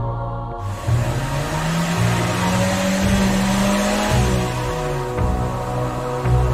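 The Lightning McQueen race car drives in a video game, with a loud, steady engine drone that rises and falls as it shifts and revs, plus occasional tire squeal.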